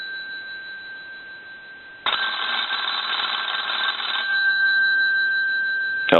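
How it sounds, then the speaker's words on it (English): An Automatic Electric rotary desk telephone bell rings loud and continuous for about four seconds, set off by a line analyzer, after a steady electronic tone, with no talking. "I want to ring the telephone with the analyzer"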